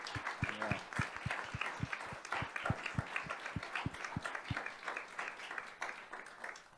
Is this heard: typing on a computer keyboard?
no